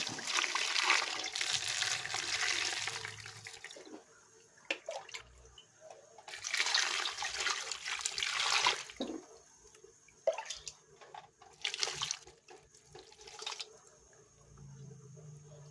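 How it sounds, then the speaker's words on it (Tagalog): Water is poured into a pot of salted sweetcorn in irregular splashing bursts, with gurgling and trickling between pours and no talking. "Lagyan natin ng tubig."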